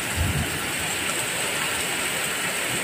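Heavy, relentless downpour during a flood-level storm, a dense steady roar of rain pounding surfaces nearby, unbroken for the whole stretch and without voices.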